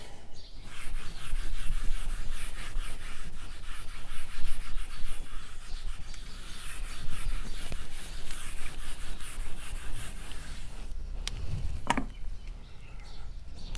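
Writing is rubbed off a lecture board with a continuous dry scrubbing sound that stays steady and fairly loud, ending in a brief knock.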